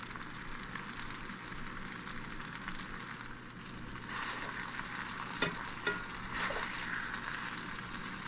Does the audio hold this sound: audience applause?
no